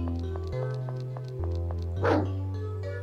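A fierce-looking dog in a horror game gives one short bark near the two-second mark over a looping background music bed with steady notes and plucked tones.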